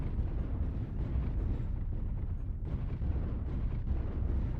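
Missile explosions in the MechWarrior Online video game, heavy low rumbling blasts rolling together into a continuous booming roar, loud and close, with no voice over them.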